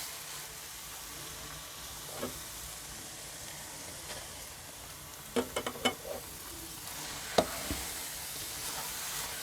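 Carrot halwa with khoya cooks in a pan with a faint steady sizzle, broken by a few soft scraping stirs and clinks near the middle and end of the clip. No one speaks.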